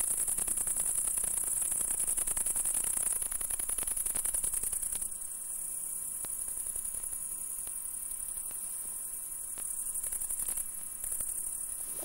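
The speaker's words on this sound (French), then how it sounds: "Pour entendre les orthoptères à chanter là." Orthoptera such as crickets and grasshoppers chirp by a stream at dusk, a dense, steady high-pitched trilling chorus that carries on throughout at moderate loudness, with no voices.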